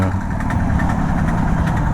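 A Yezdi 350 Twin motorcycle engine idles heavily and slowly, its low, steady throb pulsing evenly at close range with no talk over it.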